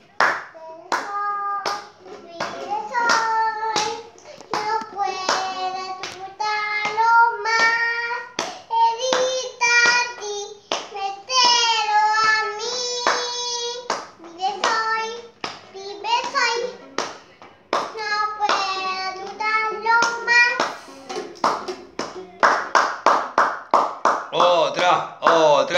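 Hands clap in a steady beat at a family gathering, with children's voices singing and talking loudly over the claps the whole time.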